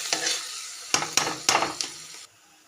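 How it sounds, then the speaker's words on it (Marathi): Onion, curry leaves, asafoetida and mustard seeds fry in a spoon of hot oil for cabbage bhaji, a steady close sizzle broken by several sharp stirring scrapes and crackles before it drops away near the end. "1 छोटा गोबी घेतले आणि याच्यात 1 चमचा तेल टाकलं, 1 छोटा कांदा, कढीपत्ता, थोडंसं हिंग आणि राई टाकली फोडणीला।"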